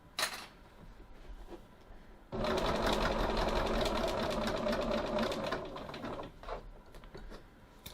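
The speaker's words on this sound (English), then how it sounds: "Stitch across the bottom of our pocket" A sewing machine with a fresh, larger needle runs steadily across the bottom of a pocket, stitching in one sustained burst of about four seconds between quieter handling sounds.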